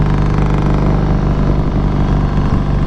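A Harley-Davidson Softail M8 with Bassani True Duals exhaust cruising at about 3,000 RPM, giving off a loud, steady, throbbing engine rumble mixed with wind noise.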